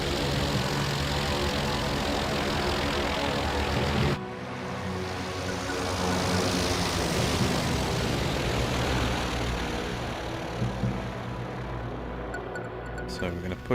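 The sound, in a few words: aircraft engine revving in video game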